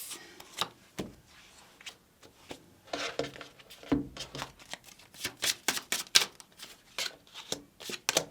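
Oracle cards shuffled and drawn from a deck up close: a quick run of papery riffles, slides and taps, busier and louder toward the end, with no talking.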